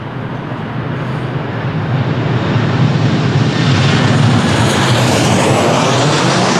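A Ryanair passenger jet lands at Lisbon Airport in gusty wind, its loud, steady engine roar building and holding close by with broadband rumble and wind buffeting, no talk.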